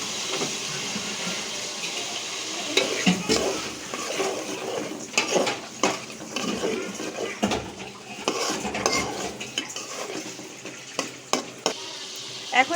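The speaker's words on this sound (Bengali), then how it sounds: "এই পর্যায়ে আমি আলু দিয়ে দিব।" Potatoes go into a pot of meat for Saudi Arab shorba and are stirred, with a steady sizzle under repeated scraping and clanking of a metal spoon against the pot.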